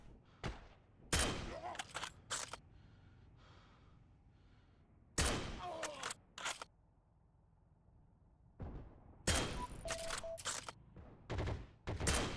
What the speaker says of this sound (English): I see someone shooting at me through the window